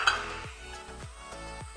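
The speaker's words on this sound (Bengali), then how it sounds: "সব কিছুকে আমি ভালো করে এখন মিশিয়ে নেব, নিয়ে এখন ঢেকে দেব।" A spoon stirs chilli, cumin and turmeric powder with dried coconut in a pan, giving a few distinct scraping strokes with faint sizzling between them.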